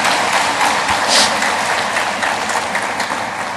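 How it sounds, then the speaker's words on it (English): Audience applause for a professor at an international education colloquium, a dense, steady wash of clapping from a large crowd that holds loud throughout before tapering slightly. "Please give him another round of applause."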